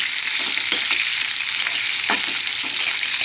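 Coriander seeds, cumin and curry leaves frying and being stirred in a hot pan for gongura chutney, a loud continuous sizzle with occasional scraping stir sounds, close up and without speech.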